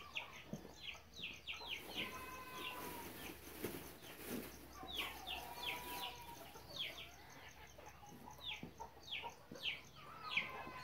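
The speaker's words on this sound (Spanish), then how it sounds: "Nomás escuchan mi voz o mis movimientos y se arriman las gallinas" Chickens on a ranch cluck and squawk in repeated short bursts as they gather, with several birds calling over each other at a moderate distance and faint chirps in the background.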